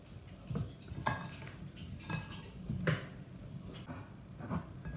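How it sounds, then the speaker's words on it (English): Dry ingredients being mixed into pecan cookie dough in a bowl, with soft scraping and clinking of a utensil against the bowl in a few separate strokes, fairly quiet and without talk. "Just pop them in there and gently mix everything together."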